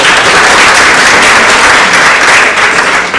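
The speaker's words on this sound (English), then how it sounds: "please give her another round of applause" Conference audience gives a loud, continuous round of applause, dense clapping heard up close for a few seconds without speech.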